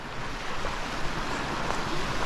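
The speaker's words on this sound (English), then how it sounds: "I like a lot of water sounds because it washes out my sound" A stream flows along a hiking trail, giving a loud, steady rush of water that fills the whole stretch without a break.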